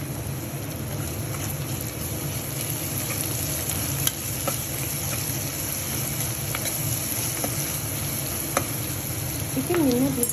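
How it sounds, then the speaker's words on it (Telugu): Onions frying with a little salt in a pan for a coriander chicken curry, a steady close sizzle with occasional stirring scrapes and clicks running throughout, no talk. "ఆనియన్ కొంచెం మంచిగా వేగాలి అంటే కొద్దిగా సాల్ట్ వేయాలి"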